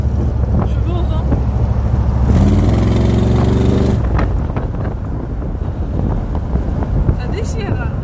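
Heavy wind buffeting and roaring over an open Cobra sports car, with engine rumble underneath and people talking loudly over it.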